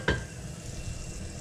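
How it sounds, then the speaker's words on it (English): Butter sizzling in a hot pan for a French omelet, a soft steady crackling hiss right after a brief clink at the start, close and continuous. "we want the butter to kind of sizzle as soon as it goes in"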